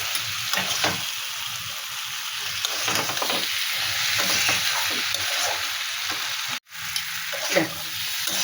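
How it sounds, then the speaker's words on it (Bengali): Mixed vegetables fry with spices in a pan, a loud steady sizzle broken by irregular stirring scrapes and knocks, with a brief dropout near the end. "এই যে সবজি কষিয়ে মশলার সঙ্গে ভালো করে কষিয়ে নিচ্ছি"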